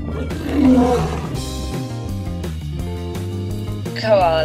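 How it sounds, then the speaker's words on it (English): A lion's roar, part of a children's zoo-animal toy lesson, rises over steady background music, swelling loud near the start and again near the end, with a voice briefly present. "Lion."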